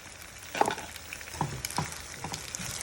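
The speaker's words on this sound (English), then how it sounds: "Now I'm gonna add the shrimp. And here go the shrimp." Already cooked shrimp dropped into a pan of fettuccine Alfredo, giving a few soft plops and clatters over a steady low sizzle, close and fairly quiet.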